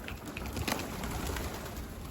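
Pigeons on the ground give faint, low coos amid a dense outdoor background hiss, with occasional soft rustles and flutters.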